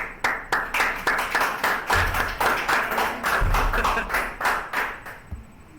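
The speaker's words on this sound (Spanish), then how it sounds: "Un aplauso por la hermana Miriam." Sustained applause from a church congregation, steady clapping throughout with a few louder swells, ending fairly abruptly.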